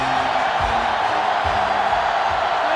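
Stadium crowd noise from the NCAA Football 07 video game, a steady loud roar of cheering fans at a Michigan versus Notre Dame game, continuous and dense throughout.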